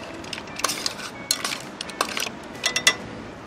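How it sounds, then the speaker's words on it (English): Garlic steamed scallops stirred in a metal pan, giving a run of light clinks and scrapes in small irregular clusters, close and fairly quiet. "Give that a quick stir"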